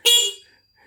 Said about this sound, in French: Quand j'appuie, là, c'est le klaxon. Vous voyez, c'est très très fort comme klaxon.